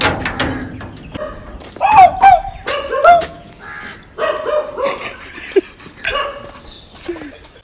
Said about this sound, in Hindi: एक कुत्ता दिख रहा है जो भौंकता हुआ